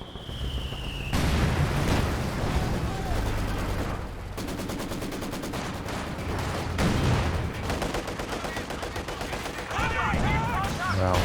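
A T-70 light tank firing in a Company of Heroes 2 battle: sharp cannon shots and rattling machine-gun bursts over continuous combat noise, with other gunfire and explosions throughout.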